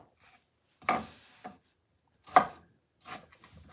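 Knife dicing tomatoes on a cutting board for a stuffed potato sauce: three separate chopping strikes spaced about a second apart, close and fairly faint, with no talking.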